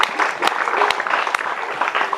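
Church congregation at an evangelistic revival meeting in Kampung Putaly claps together in praise, a fairly close, busy patter with a few sharper claps standing out, steady for a couple of seconds.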